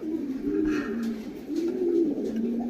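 Pigeons coo close by in a low, rolling, steady murmur, with soft rustling in the background.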